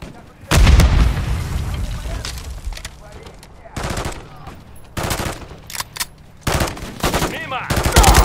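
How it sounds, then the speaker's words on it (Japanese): Bursts of heavy automatic gunfire and booming impacts, including a grenade blast, in Call of Duty Modern Warfare 3, loud and close, coming in separate volleys with short gaps and faint voices underneath. "グレネード。"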